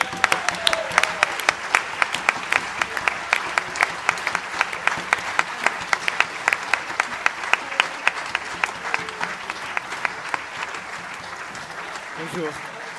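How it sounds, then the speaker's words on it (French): Theatre audience at a stage show in Namur giving sustained applause, dense clapping with sharp individual claps standing out, steady for about eleven seconds before tapering off, with faint voices underneath. "J'appelle sur le plateau, sous un tonnerre d'applaudissements, Jean-Yves et Franck,"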